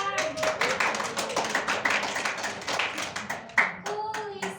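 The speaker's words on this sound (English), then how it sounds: "Okay, give applause for group 1." A small classroom group claps for a presenting team at an English club micro-teaching session, a scattered, uneven patter of hands that stays fairly close and rises and falls over several seconds, with no speech over it.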